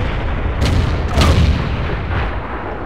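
Tank cannon shots in a tank video game sound as a few heavy booms over a loud, rumbling engine background, each blast sharp and followed by a short decay.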